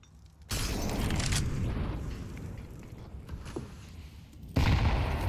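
HE grenades go off in a Counter-Strike match on the Vertigo map at IEM Chengdu 2024. A loud blast opens, a rumbling roar of fire follows, and a second sharp burst hits near the end.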